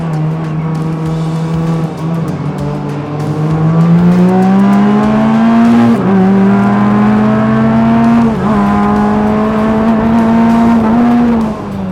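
A low-budget Formula-style race car with a manual non-synchro gearbox drones loudly at high revs from the cockpit, pitch climbing and dropping through gear changes with a sudden RPM flare from a misshift into fourth, no talking.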